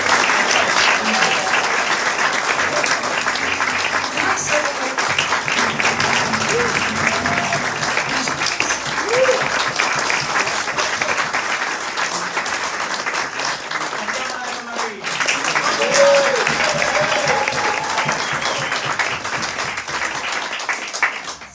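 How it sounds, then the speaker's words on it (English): Sustained audience applause at a Parisian jazz concert, a dense wash of clapping from a full room that swells and carries on for about twenty seconds, with some voices and cheers mixed in. "So please applaud once more."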